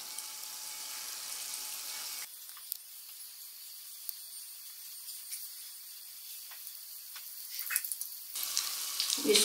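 Gulab jamun balls fry in oil with a steady soft sizzling hiss that drops to a quieter bubbling, broken by faint clicks and brief louder spits near the end; no talk.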